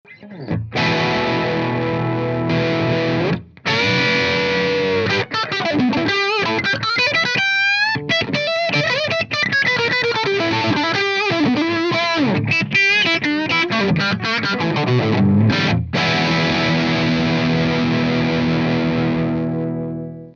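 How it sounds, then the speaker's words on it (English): Electric guitar through a Morley 2020 Distortion Wah pedal at lower gain into an amp's crunch channel, playing crunchy chords and sweeping wah-inflected lead phrases with brief pauses, loud and alone. "here's how it sounds with the distortion on the pedal set around 11 o'clock, kind of lower gain, going into the crunch channel of the amp"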